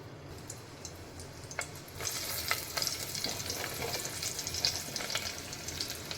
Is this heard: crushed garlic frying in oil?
yes